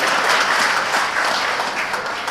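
Audience at a political rally in Kumbakonam breaking into loud, dense applause, sustained clapping from a large crowd filling the whole stretch.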